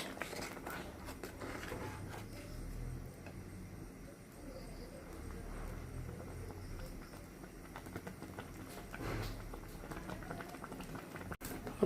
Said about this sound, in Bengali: পানি গরম হয়ে গেছে, পানি ফুটতে শুরু করছে।